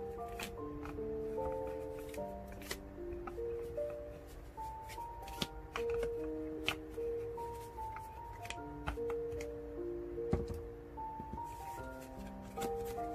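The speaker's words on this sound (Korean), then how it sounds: "그렇다면 조언 카드 뽑아보고요." Tarot cards are shuffled and drawn amid scattered soft taps and flicks, under a gentle tonal background melody that plays throughout.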